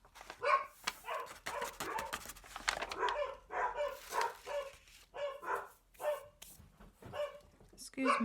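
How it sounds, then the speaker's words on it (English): Several dogs bark repeatedly indoors at a delivery, a steady run of sharp barks and yips at moderate distance that continues throughout. "Excuse my dogs."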